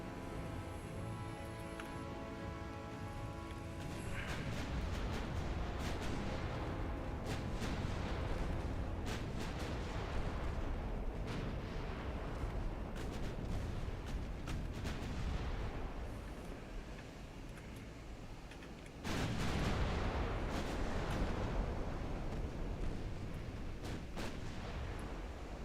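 Naval gunfire in the warship strategy game Ultimate Admiral Dreadnoughts: repeated booming cannon shots layered over a constant heavy roar, fairly loud and dense for the whole stretch, with a sharper burst of firing late on.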